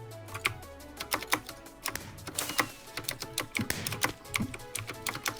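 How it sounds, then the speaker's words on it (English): Rapid, loud clacking of a computer keyboard during online Minecraft play, keystrokes in uneven bursts close up, with faint background tones beneath. "Who's typing?"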